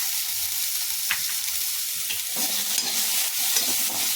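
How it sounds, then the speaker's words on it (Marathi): Vegetable manchurian ingredients fry over a low gas flame, giving a steady close sizzle with occasional light stirring scrapes. "गॅस थोडासा बारीकच ठेवायचा आहे. याला जास्त वेळ पण लागत नाही, लगेच भाजून जाते."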